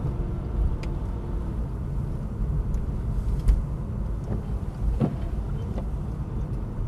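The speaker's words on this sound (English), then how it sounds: "accelerating along here, and up a gear" An Aston Martin accelerates and shifts up a gear on a drive at Prestwold Hall, heard as a steady low engine rumble with road noise and a brief surge around the gear change.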